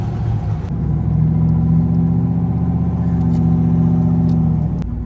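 A single turbo Chevrolet Silverado truck accelerates hard in third gear, its engine droning loud and steady with a rising rumble, heard close from inside the cab.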